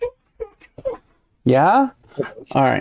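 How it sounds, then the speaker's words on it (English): A small dog whimpering and crying in short high whines, close by, alternating with someone speaking briefly. "that's because the dog is crying."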